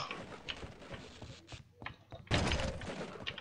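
A gate slamming shut in Half-Life: Opposing Force, a heavy metallic thunk that lands with a loud, sustained clang after scattered clanks and game noise.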